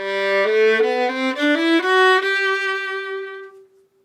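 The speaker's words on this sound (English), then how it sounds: "So this is the violin, right? It sounds like this." A solo violin plays a short rising phrase of bowed notes, then holds a long final note that gradually fades away.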